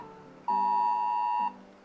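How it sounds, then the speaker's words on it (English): A phone in Germany sounds an emergency alert, a single steady electronic tone holding for about a second, loud and close over a faint background. "I just received a fake alarm on my phone"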